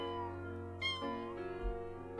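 A kitten meows beside a cat's grave in The Sims 4, its calls clear and fairly close, set over a steady tonal game background across about two seconds.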